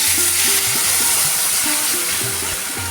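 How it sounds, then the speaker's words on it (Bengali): Masoor dal lentils tipped into a hot, sizzling pan for a hog plum (amra) dal, giving a steady close frying hiss that runs throughout, with faint tonal backing underneath and no talking. "এখন আমি ডালটা দিয়ে দিচ্ছি"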